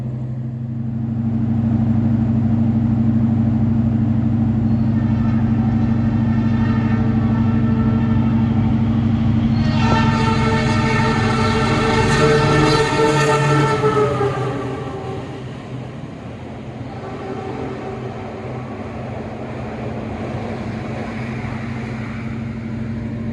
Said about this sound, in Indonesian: kereta api Turangga sudah melintas langsung di stasiun Klaten dengan tujuan akhir stasiun Bandung